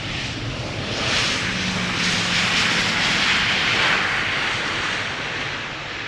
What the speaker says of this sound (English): a pair of Embraer 175s next to both runways